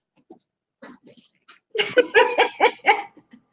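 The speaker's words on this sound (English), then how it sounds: "The dog is literally going like she doesn't see them every freaking week." A small Yorkie-poo toy dog barks at landscapers in a run of about six loud, close, high-pitched yaps in quick succession, after a few faint scattered yips.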